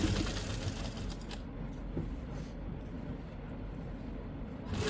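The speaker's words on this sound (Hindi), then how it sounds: "अब हम इस पे हमारे शर्ट की तरफ यहाँ से ऊपर से एक एक सिलाई और लगा लेंगे" Sewing machine running steadily while stitching a shirt collar, a continuous even mechanical whir, moderately close with no talking.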